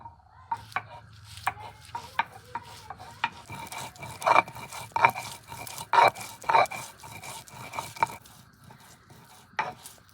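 Fried coriander leaves being ground on a stone give a series of irregular scraping, rubbing and knocking strokes, some louder and sharper than others, close by and with no voices.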